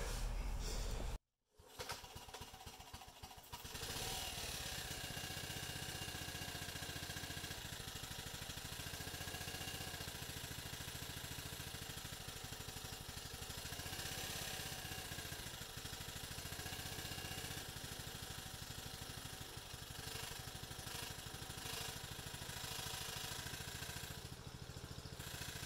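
A Honda G300 engine on an FR700 rototiller starts after a brief cord pull and settles into a steady, moderately quiet running drone that continues unchanged to the end.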